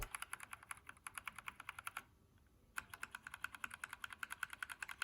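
Rapid, fairly quiet clicking and clacking from typing on a custom mechanical keyboard fitted with a new keycap set, steady keystrokes with a brief pause near the middle before typing resumes.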